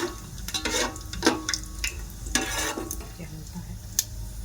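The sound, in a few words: cardamom, bay leaf and shahjeera frying in oil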